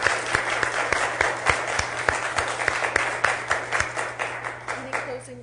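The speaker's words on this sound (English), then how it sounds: "Let's give them a round of applause" An audience applauds after a civil political discussion at a League of Women Voters event in Cheyenne, a steady round of many hands clapping over a low hum, tapering off near the end with a faint voice.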